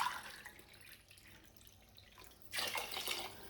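Water is poured from a cup into a cooking pot while making a jackfruit curry. There are two soft splashing pours, the second louder and closer, with quiet kitchen background between them.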